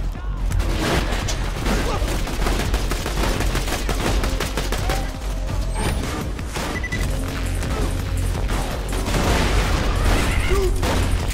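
Dense, rapid gunfire in the Borderlands 2 shooter game, continuous loud bursts of shots and impacts filling the whole stretch without a break.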